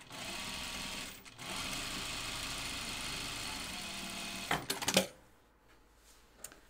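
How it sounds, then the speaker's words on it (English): A sewing machine runs steadily, top stitching a seam on a pair of jeans, with a continuous motor hum for about four and a half seconds, then a few clunks as it stops, leaving near silence. "So press your seam down and do whatever top stitching you want."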